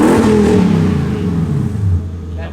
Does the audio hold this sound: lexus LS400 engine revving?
yes